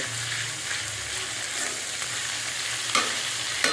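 Rice fries in oil with ginger, garlic and cumin for a biryani, a continuous close sizzle with soft scraping stir strokes, a couple of sharper clicks of the spoon near the end.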